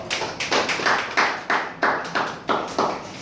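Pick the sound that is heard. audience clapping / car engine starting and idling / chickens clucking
audience clapping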